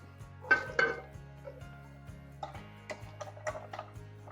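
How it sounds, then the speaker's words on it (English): Chopped bacon and potatoes tumble into a cooking pot, with a couple of clattering knocks of food and utensil against the pot followed by scattered lighter taps and clinks, over a steady low kitchen hum. "Add the chopped bacon and the potatoes to the pot."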